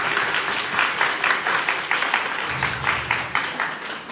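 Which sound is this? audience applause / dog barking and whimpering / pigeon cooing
audience applause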